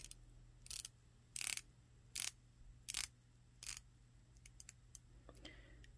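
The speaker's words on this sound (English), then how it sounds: "let's take a listen to this bezel action" A Seiko Prospex SPB149 dive watch bezel ratchets as it is turned, giving five distinct clicking bursts spaced about a second apart, close and fairly crisp, followed by a few lighter ticks.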